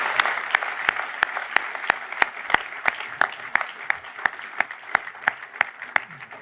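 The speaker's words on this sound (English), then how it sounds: "Please join me in another round of applause for all of our award winners today." A graduation audience claps for award winners at a Sydney business and hotel management school ceremony, with a dense steady wash of applause punctuated by sharp regular claps close to the microphone throughout.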